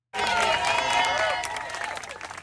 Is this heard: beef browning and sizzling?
no